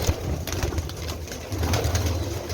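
Jaldar pigeons coo steadily and close by, a low soft warble that rolls on without pause, with no voices over it.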